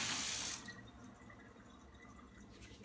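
Tap water runs hard into a bowl for homemade lemonade, a loud gushing rush at the start that drops to a steady, softer trickle as the container fills, with no one speaking.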